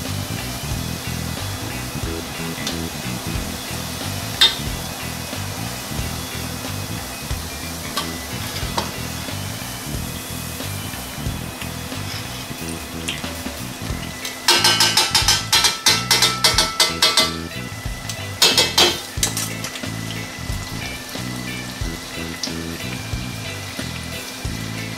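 Dominican yaniqueque dough fries in hot oil while being moved around the pan, a steady close sizzle that swells into louder crackling, bubbling bursts midway through.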